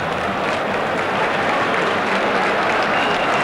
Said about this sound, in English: the applause is for the intelligent defending by Celta